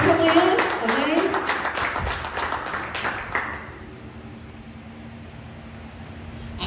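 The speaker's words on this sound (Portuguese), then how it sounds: "Você pode aplaudir ao Senhor nessa noite" Church congregation applauding during a morning worship service, a dense wash of clapping mixed with voices that fades out after about four seconds, leaving quiet room tone.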